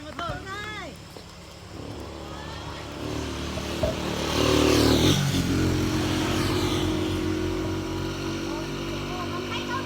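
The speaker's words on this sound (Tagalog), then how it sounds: "May motor." A motorcycle engine rises and passes by outdoors during a street game of patintero, swelling louder mid-clip and then holding as a steady drone, with people shouting and talking over it.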